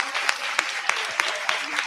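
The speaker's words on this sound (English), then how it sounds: "Round of applause for Lebogang" A room of people claps for a speaker at a personal growth session, a lively round of applause with a few sharp, regularly spaced louder claps from someone nearby standing out above the steady patter.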